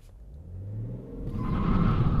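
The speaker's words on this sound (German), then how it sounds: "Und der Motor schiebt wirklich tierisch an, dreht aber auch locker bis 5000 Umdrehungen." A BMW 535d diesel in Sport Plus pulls away from a standstill with a low, rising engine rumble that grows louder through the acceleration.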